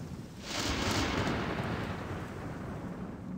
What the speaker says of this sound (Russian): Грохочет гром